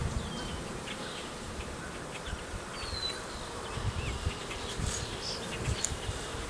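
Honey bees buzz continuously and close by as a hive is opened for a week-five inspection, a dense droning hum with individual bees rising and passing now and then. No one speaks.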